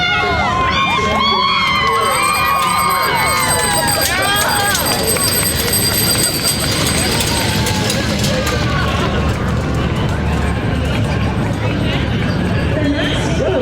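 Parade crowd at the Tulip Time festival in Pella cheering and shouting, with children's high voices and general babble filling the air continuously, with whistles and a steady roar throughout.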